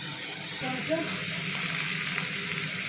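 Chopped vegetables and capsicum fry in a hot pan with a continuous, even sizzle and hiss, close by, with occasional faint stirring.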